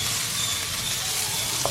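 Onion sautéing in a pan for butter chicken, a steady close sizzle with faint stirring scrapes and one brief clink near the end, no voices.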